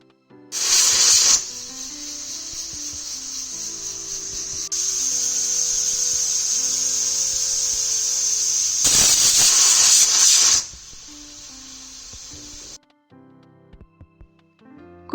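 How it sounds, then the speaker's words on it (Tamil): A pressure cooker cooking chicken soup vents steam in loud hissing whistle bursts, with a long steadier hiss between the two strongest blasts, then it stops. "குக்கரை மூடி வச்சுட்டு 4 to 5 விசில் வர்ற வரைக்கும் வெயிட் பண்ணுங்க"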